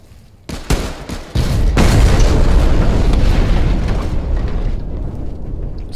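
Tank cannon fire and explosions in the WWII shooter Hell Let Loose: two or three sharp blasts, then a loud, sustained rumbling roar of battle that slowly fades, with no talking.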